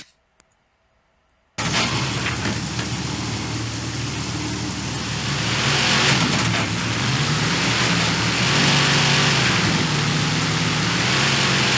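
Two race vehicles, Barefoot and Snakebite, roar down a wet, muddy track at night, a loud, continuous engine drone that starts abruptly after a brief silence and swells steadily.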